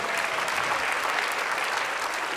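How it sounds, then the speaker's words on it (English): Steady, dense applause from a conference audience, continuous and fairly loud throughout with no pauses. "A round of applause for this gentleman, everybody."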